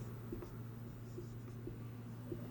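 Handwriting on paper during an accounting lesson, a steady faint scratching with small periodic taps, quiet and continuous over a low background hum.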